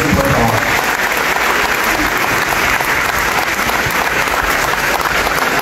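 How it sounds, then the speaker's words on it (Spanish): Loud, dense applause from an outdoor crowd at the handover ceremony of a neighborhood sports court, continuous and close for several seconds with a faint murmur of voices mixed in. "pido un fuerte aplauso para el alcalde y para todo su equipo de trabajo"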